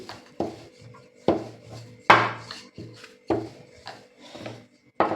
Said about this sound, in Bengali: রুটিটাকে এবার সমান করে চতুর্দিক দিয়ে কেটে চার চারকোনা একটা করে নেব আমি